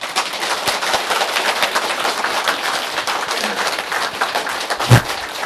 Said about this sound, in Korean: 박수 좀 크게 쳐줘요